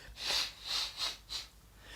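Several short, breathy nasal blasts follow one another, four quick puffs close to the listener, quiet and with no talking.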